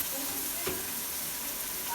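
Ginger garlic paste sizzling in a hot pan for masala rice, a steady close hiss of frying with a faint stir partway through, no talk over it.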